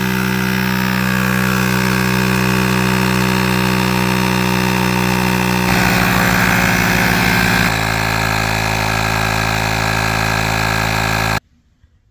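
A portable tire inflator from a jump starter and inflator combo pumps up a large tire, a loud steady motorized hum with strong tonal whine that shifts pitch partway through as pressure builds, then cuts off abruptly near the end.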